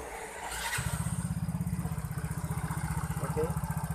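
A Yamaha Mio J scooter engine catches after a brief crank and settles into a steady, rapid, even idle putter, close and moderately loud with no talk.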